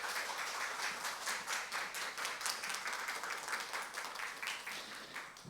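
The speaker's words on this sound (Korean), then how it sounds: "우리 큰 박수로 환영해 주시면 감사하겠습니다." A seminar audience in a church setting claps steadily to welcome a speaker, a continuous wash of many hands heard at a distance and fairly quiet, without any talk over it.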